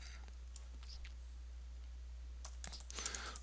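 Typing on a computer keyboard: scattered soft key clicks early, then a quicker, louder burst of taps near the end, close and alone.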